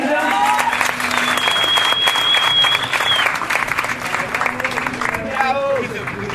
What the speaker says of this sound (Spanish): así que un aplauso muy grande para ellos.